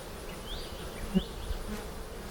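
A honeybee colony, recently split after swarming, hums with a faint, steady buzz; a soft distant drone with a brief louder tap partway through.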